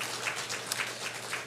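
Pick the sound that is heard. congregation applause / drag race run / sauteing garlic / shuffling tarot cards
congregation applause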